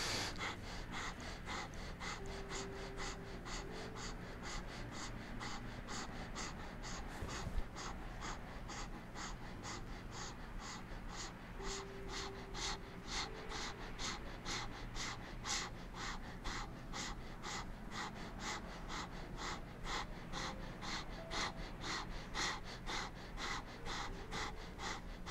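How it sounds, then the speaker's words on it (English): Breath of fire yoga breathing: rapid, evenly spaced forceful nasal exhales pulse in a steady fast rhythm for the whole stretch, close and fairly quiet, with no talking. "And breath of fire."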